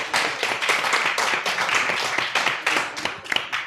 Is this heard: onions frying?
no